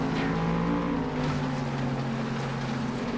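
A racing car's engine in the FlatOut video game, held on the throttle and then lifted off, giving a steady loud droning whine with shifting pitch and no speech.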